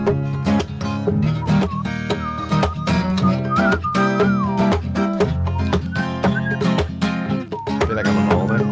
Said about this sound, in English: I'm an excellent whistler.